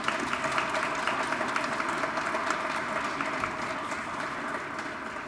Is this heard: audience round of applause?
yes